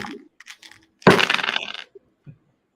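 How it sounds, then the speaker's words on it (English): A bar dice cup slams down hard on a Wisconsin bar, one sharp loud crack followed by a brief rattling clatter of dice. Quieter background chatter comes before it, and a small knock follows afterward. "You're going to see bar dice, so you're going to be hearing this a lot during the night."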